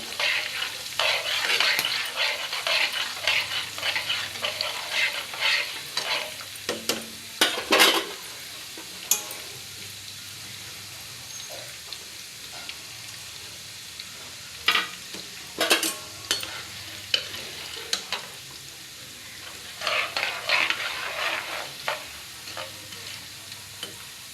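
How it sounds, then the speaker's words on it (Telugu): Chana dal frying in a pan for pulihora, soft sizzling beneath repeated scraping and stirring of a spoon against the pan, in irregular bursts with brief quieter pauses between. "శనగపప్పులో పచ్చి వాసన పోయినంత వరకు కూడా మనం చాలా చక్కగా బ్రౌన్ కలర్ వచ్చే వరకు కూడా ఫ్రై చేయాలండి"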